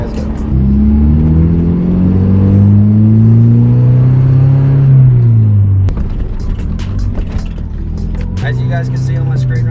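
Mazda Miata being driven on a road, its engine droning steadily with rising and falling pitch as it accelerates and shifts, close and loud throughout.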